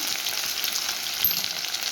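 Ginger paste frying in a pan with fried potatoes, a steady bright sizzle with a soft stir near the middle, close and continuous.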